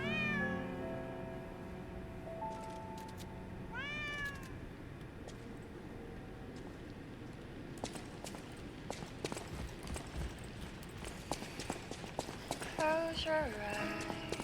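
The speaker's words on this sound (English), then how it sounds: "They have confirmed presence of cat." A cat meows in the video game Lies of P, with several short rising mewing calls over a busy game soundscape of hoofbeat-like clip-clop and other noises, moderately loud.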